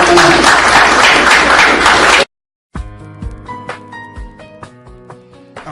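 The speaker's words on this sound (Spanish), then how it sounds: "Denle un buen aplauso al Señor de esta mañana." A church congregation bursts into loud, dense applause for about two seconds, then it cuts off abruptly into silence, followed by soft keyboard or organ music.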